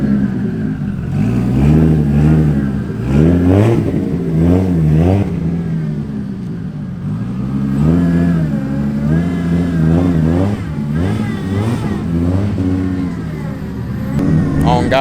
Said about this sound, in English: We got some more cars pulling up right now.